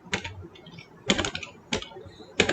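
Keys clatter on a computer keyboard in short, quick bursts of several strokes, with pauses between them, while someone writes an HTML paragraph.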